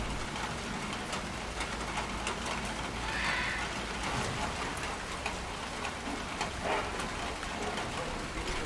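Steady rain falling and pattering on surfaces around a gorilla enclosure, a continuous wash of drops with scattered ticking hits, constant and fairly close with no voices.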